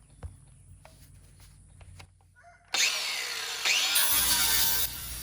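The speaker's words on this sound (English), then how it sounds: "Our battery-powered grinder was strong enough to cut through these bars." A battery-powered angle grinder cuts through the metal bars of an IBC tote, a loud, close, harsh screeching that bites in abruptly and runs continuously, rising in intensity partway through, after some quieter handling noises.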